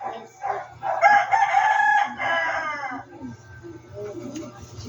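A young rooster, a stag, gives a full crow up close in a backyard poultry setting, one drawn-out call rising then falling, with people talking nearby.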